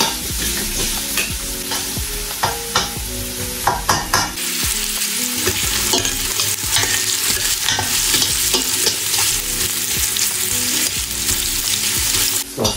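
Onion sautéing in a hot pan before shrimp goes in, a steady loud sizzle running throughout with frequent scraping and clinking of a utensil stirring against the pan.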